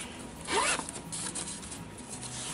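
A single brisk pull of a zipper on one side of a padded Campmaid cast iron skillet bag is heard close up and fairly quiet in an indoor room.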